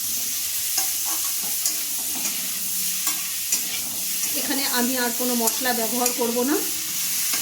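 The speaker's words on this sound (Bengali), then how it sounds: "এবার সবজিগুলোকে মশলার সাথে ভালোভাবে কষিয়ে নেব।" Vegetables are stir-fried in a pan with turmeric and cumin powder for a prawn and pui shak chorchori, producing a loud constant sizzle and repeated scraping of a spatula. A person talks over it briefly.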